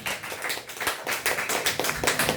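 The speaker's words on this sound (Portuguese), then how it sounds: "aplauda Jesus nessa noite, aplauda" Worshippers at an evening church service clap in quick, uneven bursts, a fairly close, crisp patter of hands with distinct individual claps standing out.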